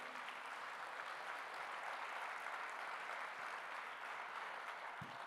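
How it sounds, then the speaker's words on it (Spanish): Sustained applause from a church congregation, an even, continuous patter of many hands clapping at moderate volume. "¿Cuánto le dan un fuerte aplauso al Señor?"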